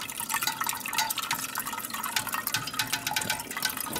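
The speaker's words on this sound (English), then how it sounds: "Okay, the cheese has drained." Whey drains from cheese curd during home cheesemaking, a steady wet trickle and patter of dripping liquid, close and continuous, with no talk over it.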